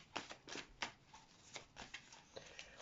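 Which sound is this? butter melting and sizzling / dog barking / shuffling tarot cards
shuffling tarot cards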